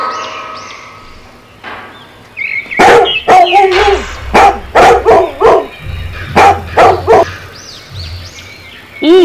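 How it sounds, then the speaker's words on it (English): A cartoon dog barks in a quick run of loud, punchy woofs after softer whimpering tones, with a low thumping backing beneath the barks. "D for dog."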